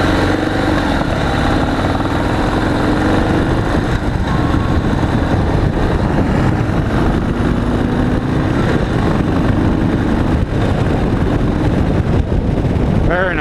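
Harley-Davidson Road King Special motorcycle engine accelerating on the road, a loud, continuous rumbling drone with pulsing exhaust texture and wind rush, heard close from the rider's position.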